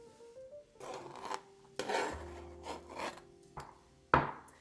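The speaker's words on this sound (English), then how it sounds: "we are going to shred this carrot just as we did with that zucchini" A carrot shredded on a hand grater in a home kitchen, giving several close, rasping scrape strokes of uneven length that end in a sharper final scrape.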